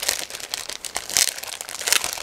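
A plastic bag holding model kit sprues for a 1/72 A.W. Meteor NF Mk.11 is pulled open up close, a continuous loud crinkling and crumpling of thin plastic with no voices.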